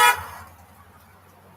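A single short car horn honk sounds loud at the start, then fades into quiet low hum.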